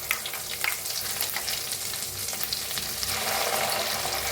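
Chopped onion with cumin seeds and asafoetida frying in hot oil for an egg masala curry, a dense, bright crackling sizzle that swells louder toward the end, close up with no voices.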